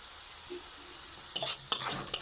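Chili, turmeric and cumin powders are sautéed in a pan. After a near-silent start, a few short bursts of sizzling and scraping stir sounds arrive close by in the last second.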